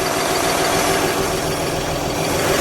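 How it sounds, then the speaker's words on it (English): Survivor 1953 Chevrolet Corvette in Polo White idles with its exhaust running, a continuous steady low rumble with a faint rhythmic pulse, close by and unbroken, with no voices. "Let me listen to a little exhaust here."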